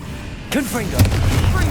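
Confringo spell blast in the Hogwarts Legacy video game: a sudden whooshing cast followed by a low boom that lingers in rumbling noise, with a character's voice over it.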